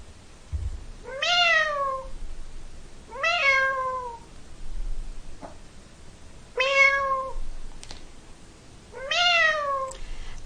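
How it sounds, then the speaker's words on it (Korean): A cat meows four times at a steady pace, each call rising and then falling, clear and close against a quiet room with faint background hum, no one speaking. "여유롭게 거실을 걸어 다니며 야옹 소리를 내는 영상을 만들어줘"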